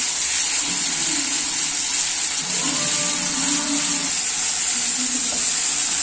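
Tomato roasts with coriander in a hot pan, giving a steady, close sizzle and hiss that runs without a break, along with faint stirring.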